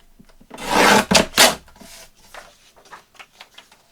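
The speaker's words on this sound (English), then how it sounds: "I'm going to do it with the, what do you call this? Decal. The decal edge trimmer." A decal edge trimmer scrapes and rasps along the edge of a paper planner page in a few quick, close strokes, followed by fainter light rubbing and tapping.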